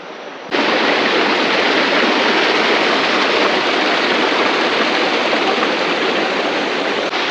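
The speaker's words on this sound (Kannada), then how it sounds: "ನದಿ ಹರಿತಿದೆ, ಅದು ಸೌಂಡ್ ಕೇಳಿಸ್ತಾ ಇರ್ಬೋದು." A river flows beside a steep monsoon-season trek path to Netravati Peak in Karnataka, producing a loud, continuous rushing hiss that starts abruptly and then holds steady, with no voices.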